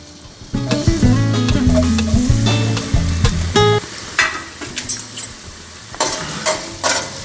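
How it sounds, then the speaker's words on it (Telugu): Finely chopped onion fries in about four tablespoons of oil in a wok for a spicy Kolhapuri misal, loud close sizzling with bursts of spatula stirring and scraping against the pan. "ఇప్పుడు బాండీ పెట్టుకొని అందులో అరౌండ్ 4 టేబుల్ స్పూన్స్ ఆయిల్ వేసుకోవాలి. ఇందులో మనం చిన్నగా కట్ చేసుకున్న ఆనియన్ వేసుకుందాం."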